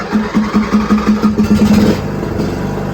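A Toro Wheel Horse 14-38 HXL lawn tractor engine cranks over with a quick, even chugging of about a dozen starter strokes, then catches and settles into a steady close idle.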